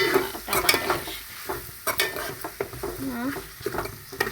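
Chicken curry sizzles and fries in a pan while a spoon stirs and scrapes against the metal, with clinks and bumps over a steady close frying hiss.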